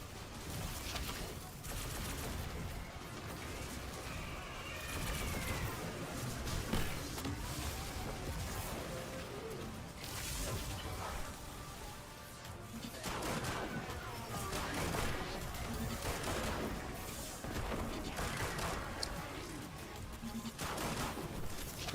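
Booming explosions and scattered gunfire from a sci-fi shooter video game, with heavy blasts and crackling fire rolling in bursts throughout, loud and dense, with no clear talking.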